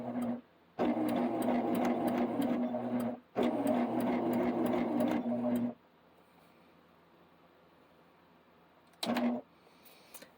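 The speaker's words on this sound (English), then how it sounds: "And I'm doing a blanket stitch." A sewing machine sews a blanket stitch on appliqué in two long, even runs of rapid mechanical whirring and needle clatter. A quiet pause follows, then one short final burst.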